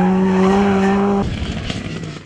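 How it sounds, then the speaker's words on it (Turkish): A rally car drifts at an airport spectator special stage, its tires emitting a loud sustained screech with steady tonal squeal, then breaking off into rougher engine and tire roar nearby. "Güçlü motorlarıyla lastik yakan araçlar pistte tozu dumana kattı."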